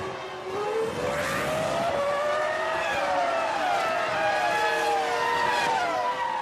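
A Ferrari Formula 1 car driven by Schumacher pulls out of the pit after refuelling at Suzuka, its high-pitched engine screaming and rising through the gears, loud and sustained with no voices.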